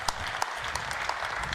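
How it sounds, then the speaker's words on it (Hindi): An audience at a political gathering in Mumbai claps in a brief, fairly quiet round of applause, with individual hand claps rattling out in a loose steady patter and no voices over it. "तालियां बजाइए इनके लिए आप लोग।"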